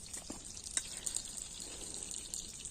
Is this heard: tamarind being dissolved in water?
yes